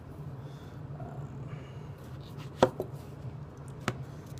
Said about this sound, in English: So we'll see how it does with just the chopping.